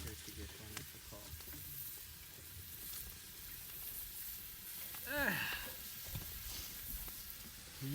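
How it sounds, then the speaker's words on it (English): Meat sizzles on a braai grill, a constant crackling hiss heard under relaxed chatter from people standing around it, with a few small clinks. "I think it's sizzling nicely"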